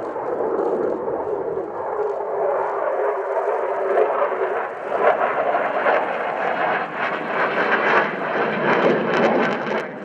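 A Belgian F-16A/B fighter jet with the midlife upgrade flies at an airshow, a loud continuous engine roar that holds steady and swells slightly over ten seconds.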